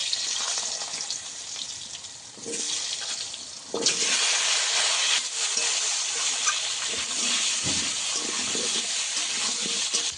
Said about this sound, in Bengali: প্রথমে আলুগুলোকে ভেজে নেব